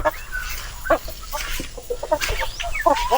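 Heritage chickens on a farm give a run of close, busy clucks and short squawks, overlapping in an irregular rhythm over a faint background hum.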